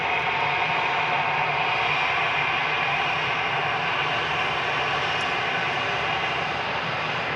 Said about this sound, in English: Completing a 1 hour 41 minute flight for the EasyJet.